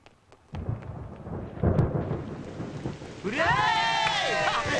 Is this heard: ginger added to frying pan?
no